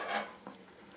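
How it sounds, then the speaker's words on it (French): A fork clinks and scrapes against a salad bowl while mixing dry baking soda and citric acid, one brighter tap near the start followed by softer scraping, close and quiet. "Avec une fourchette, vous allez mélanger le tout"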